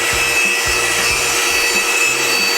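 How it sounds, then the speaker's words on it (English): Grizzly horizontal resaw with a 20 horsepower motor cutting a large timber that has a hard center. It makes a steady, loud, close broadband saw roar, with low rumbling pulses underneath and no talk. "This Grizzly horizontal resaw has a 20 horsepower motor, and it can cut up to 12 by 12 timbers in one pass"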